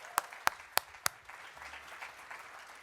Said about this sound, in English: So let's give another round of applause for that.